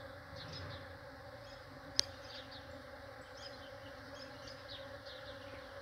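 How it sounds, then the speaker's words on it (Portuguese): Bees buzz in a steady, soft hum around a flowering ora-pro-nobis plant on a morning, with one sharp click partway through. "Nossa, tá cheio de abelha"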